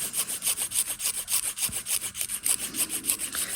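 A nail file rubbing back and forth across fingernails in a dry manicure, a fast, even rhythm of close, bright scratchy strokes repeating steadily without pause or talk.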